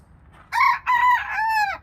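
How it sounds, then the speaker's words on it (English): A rooster crows close by, three drawn-out harmonic calls in quick succession forming one full cock-a-doodle-doo, loud and clear over quiet background. "You can hear him crowing."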